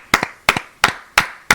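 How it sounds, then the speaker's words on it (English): Five separate, sharp hand claps are heard close up in a steady slow rhythm, each with a quick double-struck attack, as a small round of applause on a podcast. "let's give a round of applause to Cephalopodmaster"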